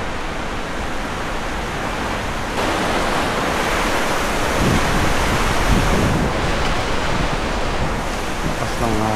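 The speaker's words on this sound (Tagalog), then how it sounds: "Lakas ng hangin." Strong wind roars steadily and loudly against the microphone outdoors, a dense continuous rush that swells slightly partway through.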